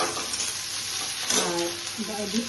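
Vegetables, including snake gourd, sizzle steadily in a pan, with a few scraping stirs and utensil clinks partway through.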